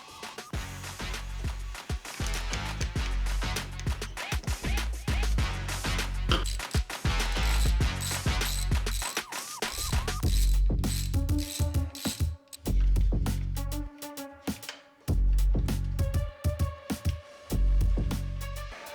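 A bolt is tightened on a Ducati V2 Bayliss motorcycle with a ratchet, giving rapid close clicking bursts separated by short pauses and some metallic rattling, loud and up front.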